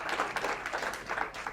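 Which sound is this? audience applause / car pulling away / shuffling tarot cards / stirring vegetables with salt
audience applause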